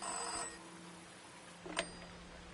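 A telephone in the video game Season: A Letter To The Future gives one short ring at the start, followed by a quiet pause and a single sharp click.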